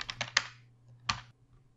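Several quick key presses on a computer keyboard, three close taps followed by a single later tap, crisp and near with quiet in between.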